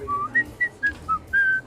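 A person whistles a short tune: six clear, close, bright notes in a quick rhythm, alone without talk.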